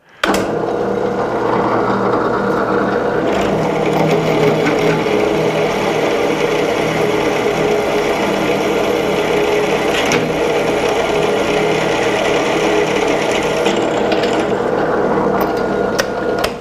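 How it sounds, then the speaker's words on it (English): A drill press drills into a workpiece through a pilot hole using a freshly sharpened bit, giving a steady, continuous mechanical whir that runs loud and unbroken throughout. "We'll take it over the drill press and try it out here in a minute."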